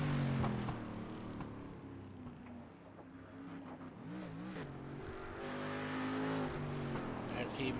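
Race car engine in a Tube Frame Twister league race, throttle worked hard through a sweeping right-hander; steady loud engine drone with rising and falling revs and pitch sweeps, under commentator talk.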